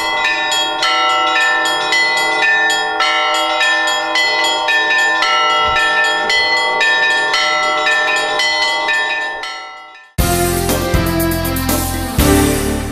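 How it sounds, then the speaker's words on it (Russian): Church bells ringing continuously during an Easter procession around a church, a dense, loud peal of overlapping strikes that carries on steadily, then breaks into a louder, brighter clang near the end. "Шествие совершилось вокруг храма при непрерывном трезвоне колоколов."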